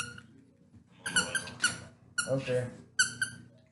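A dog squeaks a squeaky toy in a rhythm of high, sharp squeaks in several bursts, close by, under a low background hum with a brief spoken word.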